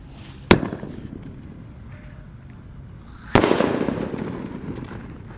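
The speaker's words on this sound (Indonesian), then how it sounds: "yang akan kita nyalakan di sini ada mercon elang mas guys. Ini 2 kali meledosnya" Two sharp blasts from a single Indonesian elang firecracker, the first short and clean, the second about three seconds later followed by a crackling, hissing tail.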